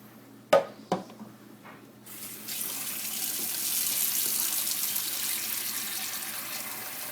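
Cold tap water poured into a pot of boiled eggs in a home kitchen, after two sharp clanks of the pot, a steady rushing splash runs continuously, moderately close.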